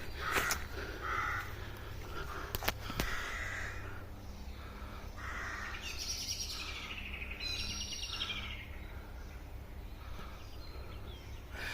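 Birds call in woods where trees have fallen, with caws and chirps scattered across the clip, some close and some farther off, over a quiet outdoor background with a few sharp knocks.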